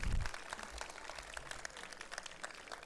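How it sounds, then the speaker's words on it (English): An audience claps steadily throughout the closing ceremony of the La Martiniere Model United Nations 2024, a dense, even patter of many hands at moderate distance that holds for nearly three seconds without voices. "let's have a big round of applause for them"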